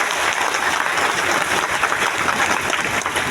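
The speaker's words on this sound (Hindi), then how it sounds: "देखिए एक जोरदार ताली इन सभी के लिए।" Loud, dense applause from an audience at a DXN mega event in Latehar, Jharkhand, sustained clapping throughout with no pause.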